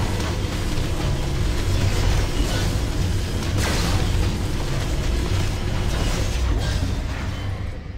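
Magneto's Meat Grinder and signature ability effects fire in Marvel Heroes Omega as a dense, continuous rumbling wash of metallic grinding and booming bursts, loud and sustained throughout.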